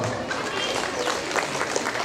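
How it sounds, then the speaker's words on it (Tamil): Audience at a school function clapping their hands, dense steady applause with scattered sharper claps, moderately loud and continuous throughout. "பெண்கள் தயவுசெய்து கைத்தட்டுங்கப்பா"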